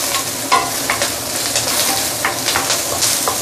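Prawn shells frying in a wok over very high heat, a loud, dense sizzle with repeated scraping stir strokes and clatter across the whole stretch, with no talking.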